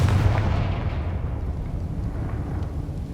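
A Confringo spell explosion in the video game Hogwarts Legacy booms loudly right at the start, then trails into a long, dense rumbling roar that fades only slightly over three seconds, with no speech.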